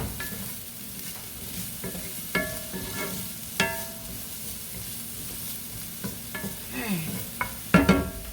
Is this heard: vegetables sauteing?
yes